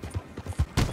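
A horse gallops in Red Dead Redemption 2, a quick run of thudding hoofbeats in a rough rhythm, close and fairly loud over about a second.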